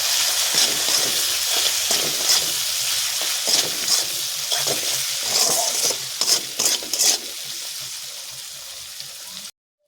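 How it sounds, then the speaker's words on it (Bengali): Spices with turmeric powder and salt being stirred in a frying pan, steady sizzling with repeated scraping strokes of a spoon against the pan, near and moderately loud, fading out at the end. "1 চামচ হলুদ গুঁড়ো আর স্বাদ মতো লবণ দিয়ে আবারও ভালো করে নাড়াচাড়া করে নেব।"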